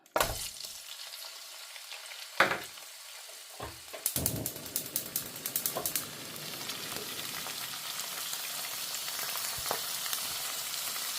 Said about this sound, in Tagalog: ilalagay na po natin dito ang karning baka